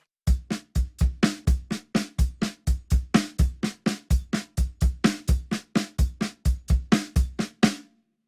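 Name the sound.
drum kit unison pattern of hi-hat, bass drum and snare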